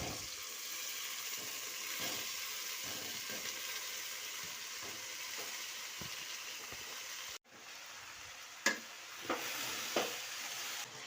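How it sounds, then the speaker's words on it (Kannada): Soaked flattened rice (poha) frying over a low flame in a pan, giving a steady soft sizzle with occasional scraping stirs and a few louder knocks near the end. "ಇದನ್ನು ಲೋ ಫ್ಲೇಮಲ್ಲಿ ಫ್ರೈ ಮಾಡಬೇಕು."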